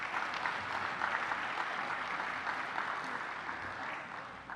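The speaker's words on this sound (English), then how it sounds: "Let's have a round of applause for all of those" Steady applause from an audience at a graduation ceremony, even and continuous, at moderate distance, tapering slightly at the end.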